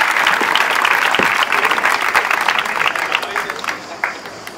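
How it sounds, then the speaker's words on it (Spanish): Audience applause at a poetry reading in a regional library, a lively burst of clapping that gradually thins and tapers off over several seconds. "un aplauso para Jorge"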